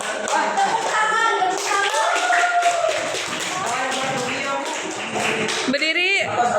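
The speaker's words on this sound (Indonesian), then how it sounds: "Rafa dan Faisal tepuk tangan." Classroom of young students clapping for two first-place winners, a steady patter of many small hands with a teacher's voice speaking over it and a brief clatter near the end.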